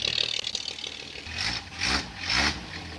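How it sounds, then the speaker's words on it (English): A 1965 Rambler American engine idles, then revs up three times in quick succession, each surge rising and falling back, with a slight exhaust leak. "I'm gonna rev it up a couple times, then we'll pull it off."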